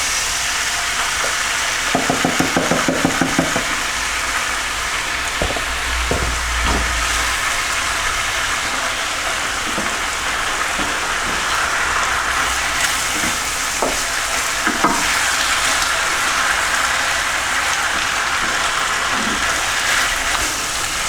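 Beef ragu with passata stirred in sizzles steadily in a pan, a constant bright hiss with occasional spoon scrapes and taps against the pan, and no voices.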